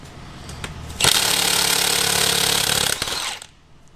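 A Milwaukee M12 stubby impact wrench hammers for about two seconds, a loud, dense, continuous rattle that then tapers into a brief second burst and stops.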